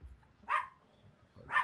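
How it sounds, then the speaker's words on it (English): A dog barks twice, about a second apart, each a sharp bark standing out over a quiet indoor background with low rumble. "Sorry about the dog."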